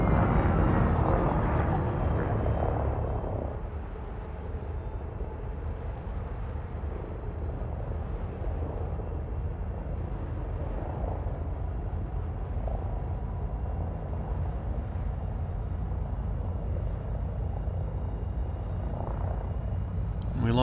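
Spacecraft vertical thrusters with landing gear up, firing at full binary thrust in a flight game: a steady, loud, rumbling roar that holds for the whole stretch with little variation.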